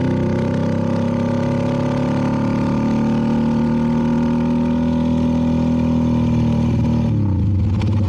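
A CFMoto 300NK motorcycle fitted with a KO exhaust hums along at a steady, loud cruising drone for most of the ride, then its pitch drops sharply near the end as the rider slows.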